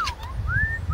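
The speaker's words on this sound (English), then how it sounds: "And over here we got Spiky Bird" A pet bird lets out thin, rising whistled calls, a couple of brief tones, close by over a low background rumble.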